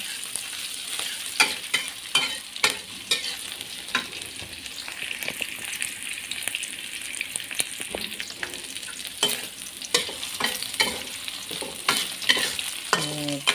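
Chili and garlic sauté in a pan for a Betawi-style milkfish pindang, a steady hiss of frying with frequent scraping stir strokes and clinks of a utensil, close and moderately loud, no voices.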